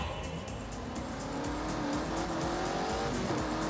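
A BMW with a 4.4-litre twin-turbocharged V8 driven in The Grand Tour video game, its engine droning steadily and rising in pitch as it revs, with tyre squeal over a constant loud roar and no talking.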